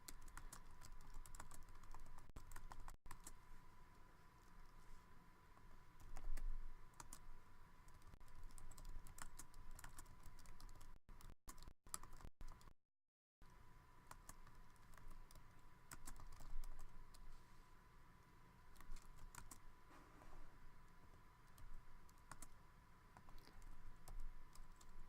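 Typing on a computer keyboard, a steady run of close keystroke clicks that continues for most of the stretch with a couple of brief pauses, with no voices.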